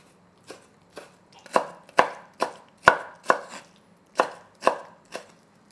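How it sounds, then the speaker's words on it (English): Kimchi is chopped thinly with a knife on a cutting board in about a dozen crisp, evenly spaced knocks, close and clear with no talking. "I need to chop it up really thinly."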